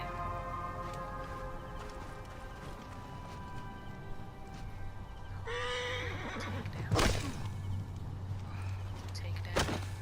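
A horse whinnies loudly in Assassin's Creed: Origins, a clear rising neigh over a low engine-like drone, followed by a sharp thud and brief rustling.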